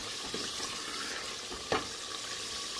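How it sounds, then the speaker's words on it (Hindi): Chicken being fried and stirred in a pan for a Kachnar curry, giving a steady close sizzle with an occasional scrape or clink of the spoon. "इसे भी 2 से 3 मिनट तक भून लेंगे। ये चिकन हमारा अच्छे से भून गया है।"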